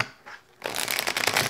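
A deck of tarot cards is shuffled close to the mic: a few soft slides, then a dense rapid riffle of crisp card flutters lasting about a second, with no talk.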